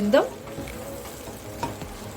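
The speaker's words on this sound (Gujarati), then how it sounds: "આપણે મકાઈને તેલમાં જ 2 મિનિટ માટે આ રીતે ચડવા દઈશું" Corn kernels for chevdo fry in oil with a soft, steady sizzle, punctuated near the start and again later by brief scrapes of a spoon stirring in the pan.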